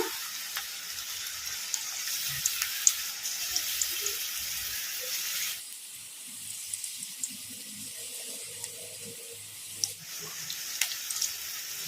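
Onion manchurian batter sizzles steadily in oil over a low flame, a continuous close hiss with faint scattered crackles and small clinks from stirring.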